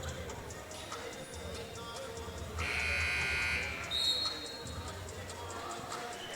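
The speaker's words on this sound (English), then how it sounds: "As the buzzer sounds to resume play" A loud electronic arena buzzer blares for about a second at a men's basketball game, signalling play to resume, amid crowd noise and a bouncing ball, with a voice talking over it.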